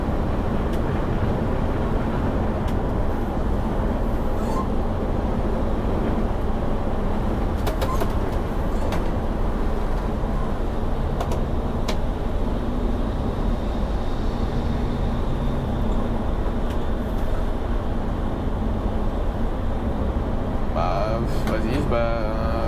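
A school coach on the road, heard from inside the cabin: a steady, loud low rumble of engine and tyres runs unbroken throughout, with faint rattles and a brief burst of higher clatter near the end.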